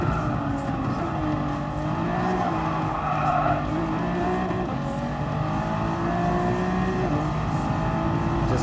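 Race car engine in Gran Turismo Sport droning steadily with shifting pitch, joined by tire squeal and skidding through the whole stretch, loud and continuous with no talking.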